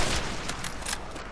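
Gunfire in Call of Duty: World at War Zombies, several quick shots in a rapid burst against a dense, loud game backdrop.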